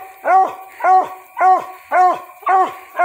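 A Redbone coonhound gives six loud, close barks in an even rhythm, about two per second, each a bright, tonal bay that drops off at the end, with quiet gaps between them.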